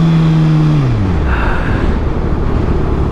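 A 2019 Kawasaki ZX6R sport bike ridden on a country road, its engine droning loudly as the pitch drops with a gear change, then settling into a rough steady rumble with wind noise.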